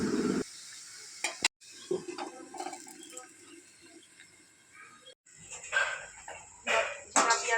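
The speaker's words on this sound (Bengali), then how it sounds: "এবার একটু ভালোভাবে নাড়াচাড়া করে মিশিয়ে নিই" Small fish and ridge gourd being stirred together in a pan, with a soft sizzle and intermittent scraping and clinking of a spoon at close range, interrupted by brief pauses.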